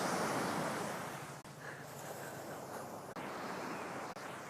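Ocean surf rolls onto a beach in a steady broadband wash, with gusts of wind buffeting the microphone and a few brief dropouts, no voices.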